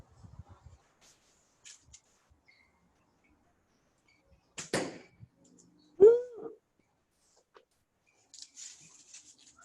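An arrow is shot from a handmade bow with a deer-hide handle, giving one sharp snap of the string, a brief whooshing swish, and a few faint scattered taps and rustles in a quiet space.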